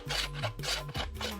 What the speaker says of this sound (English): They take their time crafting the wood, sawing, carving, and filing it down.